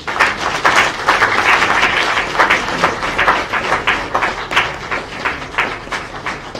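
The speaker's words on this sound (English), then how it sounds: "A louder round of applause, a louder round of applause, a louder round of applause" Audience applause at a formal launch event for Sierra Leone's UN Security Council bid, sustained clapping from a crowd that swells, then thins into scattered individual claps toward the end.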